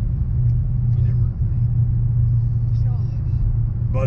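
A Dodge Challenger Hellcat heard from inside the cabin under hard acceleration, a deep, loud, steady engine rumble and road drone that fills the whole stretch with only a brief dip.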